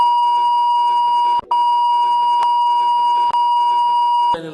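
A censorship bleep holds a steady high tone over speech for several seconds. It breaks off briefly a few times, and there are short clicks at the cuts.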